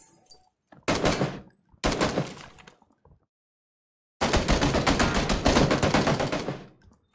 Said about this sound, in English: they got me with a shotgun.